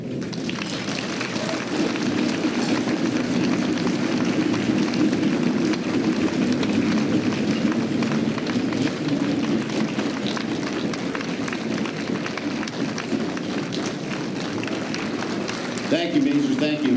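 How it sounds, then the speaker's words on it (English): Steady, dense applause from a crowd at a high school NJROTC military ball for Major Tom Deierlein, continuing at an even level with voices faintly underneath and a brief louder stir near the end. "Ladies and gentlemen, round of applause, please."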